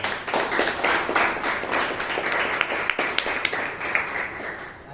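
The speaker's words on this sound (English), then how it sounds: "A big round of applause." Applause at a Toastmasters club meeting in Bangalore, a room full of steady clapping with a few sharper individual claps standing out near the end as it gradually thins.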